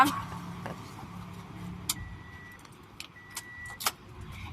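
The engine of a 2011 Toyota Vios 1.5 G with automatic gearbox idles and then shuts off after a couple of seconds, leaving a quiet hum broken by a few sharp key or switch clicks.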